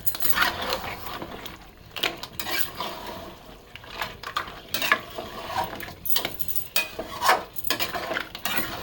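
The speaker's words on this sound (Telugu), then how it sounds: "వీటిని ఒకసారి ఇలా వేయించుకుందాం." Sea crabs fry in a pan for a curry while a spoon stirs them, with steady scraping and clattering against the metal and an undercurrent of sizzle, close and continuous, no speech.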